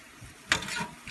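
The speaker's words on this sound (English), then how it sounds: "listen to them sizzle though" Beef tips and beef ribs sizzling in a hot pan as they are shuffled around, heard as a short burst of hissing frying with a brief scrape, fairly faint and close.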